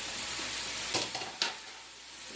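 Fajitas sizzle in a hot pan, a soft continuous hiss broken by a few sharp bursts of crackling as the food hits the heat.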